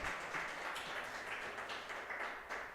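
A church congregation claps for its pastors, with a faint, steady patter of many hands filling the room at a distance and no voices standing out.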